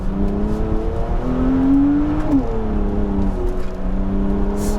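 A Mercedes-AMG SLC 43 drives on a race track, its engine and exhaust droning loud and close, with revs rising in pitch to a peak, then dropping back to a steady hum as the car lifts off.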